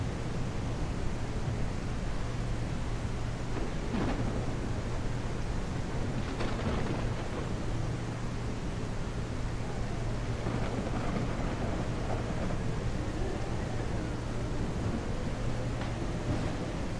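Thunderstorm at sea in the sailing game Seafarer: steady heavy rain and wind roar fills the whole stretch, with several rolling thunder rumbles swelling and fading at intervals and a constant low hum underneath.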